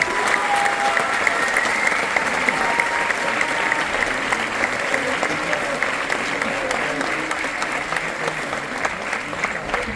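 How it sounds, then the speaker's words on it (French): A business event audience claps together in a sustained, dense round of applause, loud and steady throughout, with faint voices mixed into the crowd noise. "tout le monde s'applaudisse ensemble, de manière comme ça"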